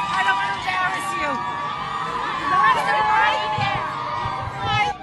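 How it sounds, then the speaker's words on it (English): Families and friends crowd an airport reception hall to welcome new immigrants. A steady babble of many voices fills the space, with excited shouts and cheering rising now and then. "The crowd here consists of families and friends, but also many who do not have any specific connection with any of the new Olim."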